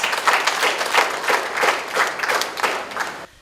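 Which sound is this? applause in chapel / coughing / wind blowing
applause in chapel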